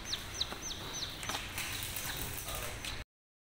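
Bantam chickens cluck and chirp in short repeated calls while flocking for feed, with scattered footsteps and light knocks against a low outdoor background.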